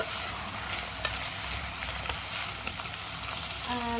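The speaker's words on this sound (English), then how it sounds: "So I dropped my onion into the pan and mixing it well." Onion sizzling in a pan for an egg bhuna curry while being stirred, a steady close hiss with scraping and small crackles throughout.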